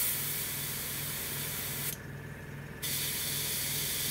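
Steady, close hiss of a Gaahleri Ace airbrush spraying paint, broken by one short drop in the middle before the spray resumes at the same level, with no voices.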